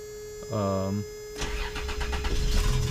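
A 1989 Toyota Pickup V6 engine cranks briefly with a whirring starter, then catches and settles into a rumbling idle, fairly close and moderately loud.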